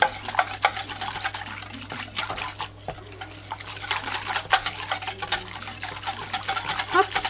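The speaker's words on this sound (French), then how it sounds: "Je vais prendre un fouet pour mélanger. Donc je mélange la farine, je la dissous correctement" A whisk stirs flour into milk in a bowl, dissolving it, with steady rapid scraping and clinking against the bowl that runs nearly throughout, close and fairly loud, with a short pause partway through.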